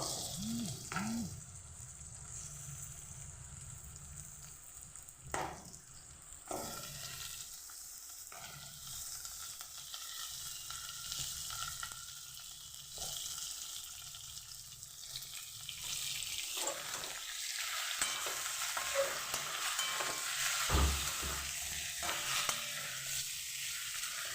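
Mutton pieces for a mutton aloo jhol frying in a pan and being stirred, a close hissing sizzle with repeated clinks and scrapes of the spoon, intensifying toward the end, with occasional splashing water sounds.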